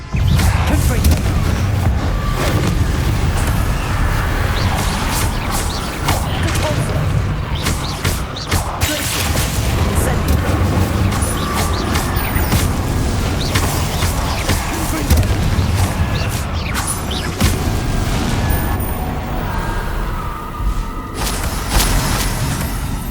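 Repeated fiery spell blasts in Hogwarts Legacy, loud booming explosions and crashing debris in a busy combat scene, with battle noise throughout.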